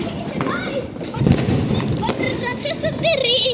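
Paper firecrackers burst outdoors during Diwali with several sharp pops and thuds scattered across a few seconds, while people talk and shout nearby.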